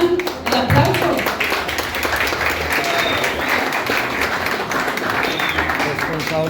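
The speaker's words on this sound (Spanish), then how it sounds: "El aplauso." Audience applause at a guarapo carnival, a dense, steady wash of clapping from a crowd that holds at full level throughout, with voices mixed into the din.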